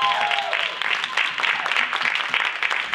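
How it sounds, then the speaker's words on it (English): Audience applause at the launch of a fashion show event, a dense, lively crowd clapping continuously at close range, with a brief voice at the very start. "Let's get excited and give a round of applause"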